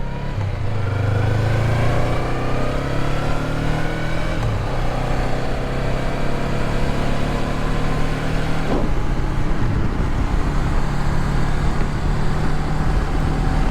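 Honda CB500X motorcycle ridden on a long road trip carrying a pillion passenger and luggage, its engine droning loudly and steadily with rising pitch under acceleration and constant wind and road noise, no voices.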